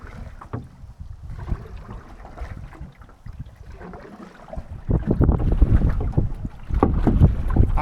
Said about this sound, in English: Paddling and paddling, and I do not move much, but when the wind stills, it's better.